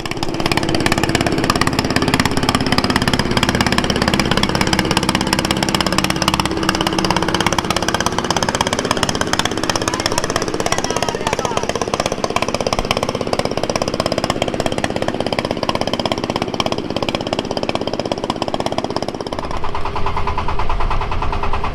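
A ferry boat's engine chugs loudly and steadily as it leaves the ghat to cross the Padma river, a close, rough mechanical drone that drops off abruptly near the end.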